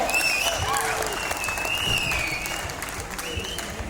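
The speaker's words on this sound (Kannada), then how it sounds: "ಈ ಕಾಸ್ಟ್ಯೂಮ್ಗೆ ಬರಲಿ ಜೋರಾದ ಚಪ್ಪಾಳೆ" A college auditorium audience at DSCE claps loudly for a village-style saree costume, dense continuous applause with whistles and cheering voices over it, holding steady throughout.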